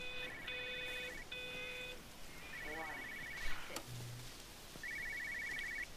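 An old telephone rings in the game Everybody's Gone To The Rapture, sounding in repeated bursts of electronic trilling tones with gaps between them, faint and thin, with a person speaking quietly partway through.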